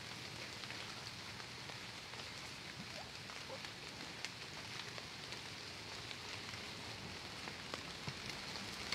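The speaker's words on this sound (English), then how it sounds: "Still raining a bit," Steady rain falling in the woods, a soft continuous patter and hiss of drops on leaves and surfaces, fairly faint and even throughout with no voices.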